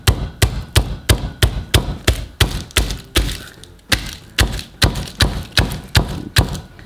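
Garlic cloves crushed by hand with steady, evenly spaced thuds, about two per second, close and fairly loud, with no voices.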